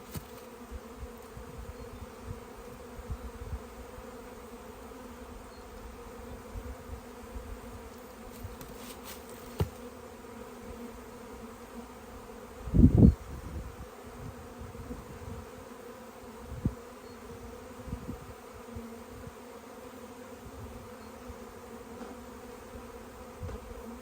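Bees humming steadily while a beekeeper works a swarm, a soft continuous drone throughout with a brief louder buzz near the middle and occasional handling sounds.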